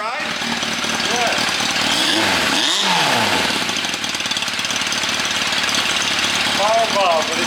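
A restored Yamaha FZR motorcycle engine runs steadily and loud throughout, its revs swelling briefly near the middle and again at the end, with voices talking over it.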